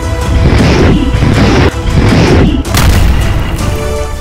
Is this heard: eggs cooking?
no